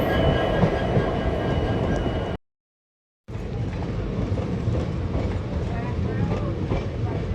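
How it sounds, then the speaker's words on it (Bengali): Loud, continuous rumble and clatter of a freight train passing close by on an Indian rail line, steady throughout apart from a brief full dropout near the start. "মালগাড়ি"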